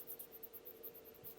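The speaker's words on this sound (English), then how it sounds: "Let me write that down" Faint scratchy pen strokes jot down notes in quick, repeated short bursts, soft and close against a quiet background.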